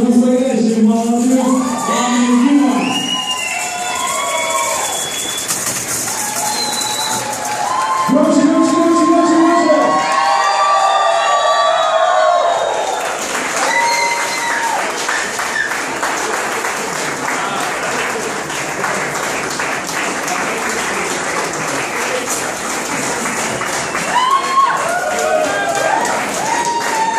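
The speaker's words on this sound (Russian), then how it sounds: "дамы и господа, ваши аплодисменты" Wedding guests at a reception for the bride and groom in Stuttgart applaud loudly and cheer, with whoops and children's shouts mixed into a dense, sustained crowd din; a voice speaks over the start.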